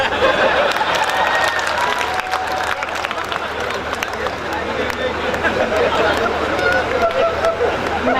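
Loud crowd applause at a Hindi comedy poetry gathering in Behror, with scattered cheering and murmuring voices, a dense continuous wash of clapping from a large audience.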